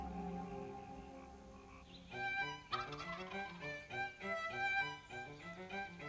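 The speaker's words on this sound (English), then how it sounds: "What about the wild turkey?" A wild turkey gobbles in a burst of rapid, warbling calls over a soft musical bed, fairly clear and up close, with no one talking.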